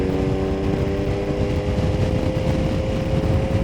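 A very old Ferrari's engine drones loudly and steadily from just ahead, heard while following it on a motorcycle along the Westfriese Omringdijk in the Netherlands, with engine rumble and road noise throughout.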